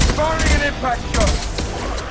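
Dense gunfire from a firefight in the video game Mass Effect 2, with rapid overlapping bursts and booms filling the whole stretch loudly while voices call out over the shooting.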